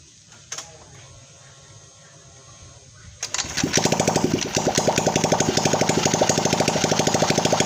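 A motorcycle engine with no exhaust fitted: quiet workshop clicks, then the engine fires up around three seconds in and runs loudly with a sharp, rapid, unmuffled popping rhythm close by.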